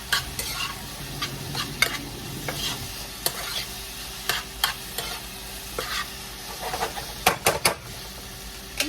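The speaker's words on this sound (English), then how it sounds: "the other pan already has the oil in there, so I can fry up the shells" Taco shells frying in oil in a pan, a steady close sizzle with repeated sharp clicks and scrapes of stirring or turning, no voices.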